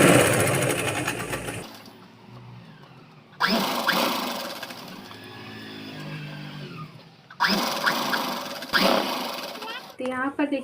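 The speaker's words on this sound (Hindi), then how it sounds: "हमें इस तरह से ऐसे सिलाई लगानी है और पूरे कमर में लगा ले जाना है।" A sewing machine stitches an elastic belt around the waist of a saree, running in three loud whirring bursts separated by quieter pauses where a voice can be heard.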